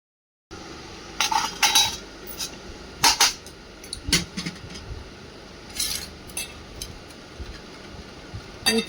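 Rice being served at home beside a goat meat curry meal, with spoons and cutlery clinking and scraping against metal dishes in quick irregular bursts, close and clear, with no talk.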